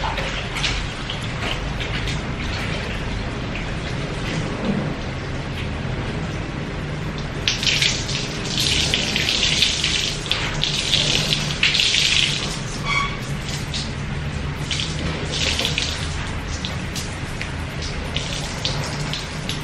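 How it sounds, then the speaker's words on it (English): Clothes rinsed by hand in a basin of water outdoors in the Philippines, with steady sloshing and splashing that swells into louder bursts of swishing midway, continuous and close with no talk. "And we're rinsing clothes."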